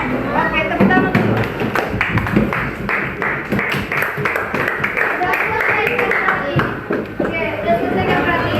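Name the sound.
class clapping hands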